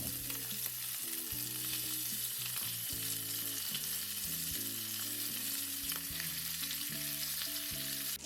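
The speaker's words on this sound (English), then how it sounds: "arrange our pieces of meat, allowing them to seal well. Do not rush and let them brown." Pieces of meat searing in smoking-hot pork lard for a slow-cooked ragù, a steady dense sizzle and crackle of frying that stays loud and even throughout, with no talking.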